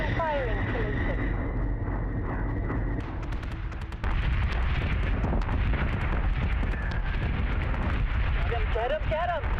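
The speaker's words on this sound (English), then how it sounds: "Firing on target." Spaceship guns firing in Battlestar Galactica Deadlock, heavy booming bursts and rumbling blasts that grow denser after a few seconds, mixed with radio-style voice chatter and electronic tones.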